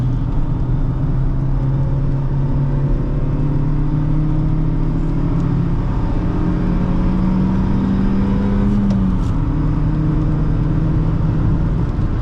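A 2008 Honda Fit driven briskly through corners, its mid-pitched engine droning steadily with rising and falling revs and a constant road rumble from inside the cabin, no talk.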